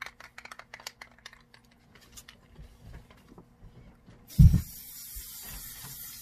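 A can of Loctite spray adhesive releases a short, loud burst of hissing spray after several seconds of light clicking and handling noises, used for gluing craft trifold boards indoors.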